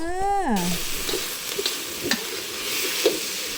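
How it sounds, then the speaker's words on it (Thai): Red curry paste fries with pork and long beans in a pan, with kaffir lime leaves mentioned in the dish. A steady sizzle runs throughout with occasional stirring clicks, following a short swooping tonal effect at the start. "ผัดพริกแกงหมูใส่ถั่วฝักยาวแล้วก็ ใบมะกรูด"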